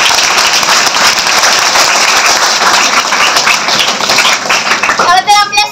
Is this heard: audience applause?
yes